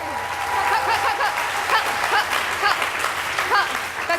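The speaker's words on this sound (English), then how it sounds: "There's not much time for applause" Audience applause at a film premiere for Age of Stupid, a dense continuous patter of many hands clapping, fairly loud and sustained, with a few scattered voices and light laughter mixed in.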